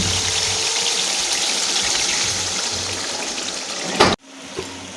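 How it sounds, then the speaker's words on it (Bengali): Water pours steadily into a pan of curry for potato dum, after the spices and sour yogurt have been fried down in oil, a loud continuous gush that stops abruptly near the end. "এবার আমি জল দিয়ে দেব।"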